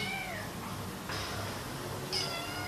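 Young kittens only a few months old meow at an SPA animal shelter in the Yvelines, three short thin cries spaced apart over a quiet room background.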